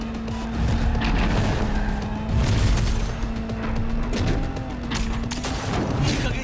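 Gunfire and crashing impacts from combat in the video game Cyberpunk 2077, repeated sharp bursts over a steady engine-like drone and a sustained tone, loud and dense throughout, with no talk.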